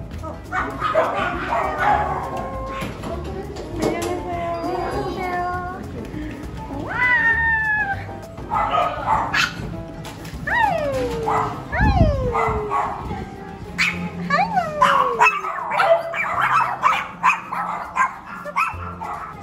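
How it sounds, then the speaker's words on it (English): Dogs at a dog cafe in Seoul bark, yip and whine throughout, mixed with cat-like mewing calls, close and busy under steady chatter from people in the room. "I hear the dogs."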